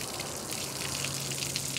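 Water from a hose runs through a top flush adapter on a Yamaha F-150 outboard, giving a steady broadband gush with a faint low pump-like hum and no talking.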